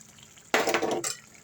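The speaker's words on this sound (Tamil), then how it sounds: "கொஞ்சம் கிண்டி விட்டுருவோம்" A spoon scraping and stirring chicken in a cooking pan, one sharp clattering burst of about half a second, then a second quieter scrape, close and otherwise quiet.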